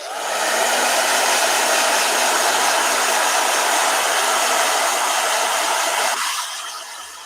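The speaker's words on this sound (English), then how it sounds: "let me blow dry it real quick" A blow dryer roars steadily at close range for several seconds while drying a piece of artwork, then switches off and its whine fades down.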